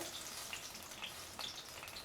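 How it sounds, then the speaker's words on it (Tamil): Ghee and butter heat in a kadai, a faint soft sizzle and crackle with occasional small pops, quiet and steady without any talk. "நெய் கூட கொஞ்சம் பட்டரும் சேர்த்துக்கிறேன் நான்."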